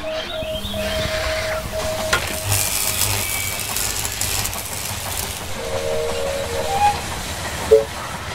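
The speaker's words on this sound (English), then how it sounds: "The train has arrived at the station." A train arriving at a station in the video game They Are Billions rumbles and hisses steadily, with brief tonal signals and a few sharp clanks near the end; no one speaks.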